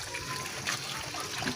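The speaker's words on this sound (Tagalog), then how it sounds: "Iigib na ako ng tubig." Water gushes steadily from a pump at close range while it is being fetched, with soft splashing surges over a continuous rushing flow.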